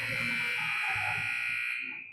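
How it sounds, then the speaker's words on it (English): Period-ending buzzer at a youth hockey scrimmage in an indoor rink, one sustained loud electronic tone lasting about two seconds before it cuts off, with faint crowd murmur underneath. "There's the buzzer."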